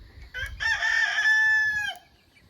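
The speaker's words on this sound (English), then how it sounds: "There is the surprise chick. I think it's a rooster." A rooster crows once on a farm, a loud, close call rising and holding steady for over a second before cutting off, with faint low rumble beneath and no talk.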